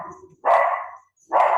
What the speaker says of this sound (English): I have a barking dog